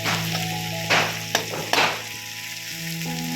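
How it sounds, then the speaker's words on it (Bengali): Egg fried rice frying in a home pan produces a steady close sizzle, broken by a few sharp scraping and stirring bursts partway through, with a low hum running underneath and no talking. "মা যে এগ ফ্রাইড রাইস বানাচ্ছে"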